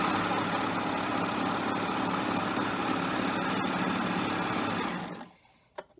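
A serger stitches a 3-thread rolled edge pin tuck without cutting the fabric, a loud, steady, close machine whir running unbroken for about five seconds before stopping abruptly.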